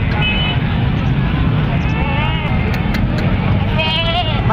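Goats bleat at a busy livestock market in Cholistan, with several wavering bleats rising over a loud, constant crowd and traffic din.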